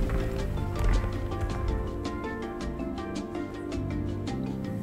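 Horse clip-clop at a horse totem in the video game Roots of Pacha, a quick run of sharp hoof clops over a busy layered musical backdrop, moderately loud and steady throughout.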